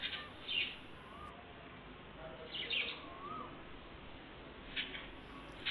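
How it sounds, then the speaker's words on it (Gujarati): Faint calls of a white parrot, three short squawky cries spaced apart against a quiet, hissy background. "આ જે વ્હાઇટ કલરનો પોપટ રમે છે ને એ એની રીતે નીકળીને ત્યાં રમ્યો"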